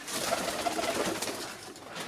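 Zamość pigeons coo in a loft, a short series of soft, low, rhythmic coos close by over faint background noise, with no talking.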